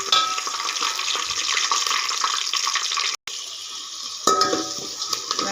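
Sliced onion and green chilli fry in hot oil for egg curry kuzhambu, a loud continuous hiss that cuts out briefly, then resumes with a clattering stir.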